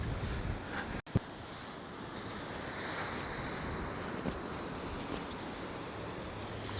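Steady breezy wind buffets the microphone outdoors on the Isle of Wight, a continuous broadband rush with one brief dropout and a small thump near the start, no voices.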